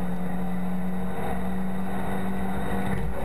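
VW Cup race cars racing at Spa-Francorchamps, a sustained engine drone holding a steady pitch for a few seconds, loud and continuous, with no gaps or passes.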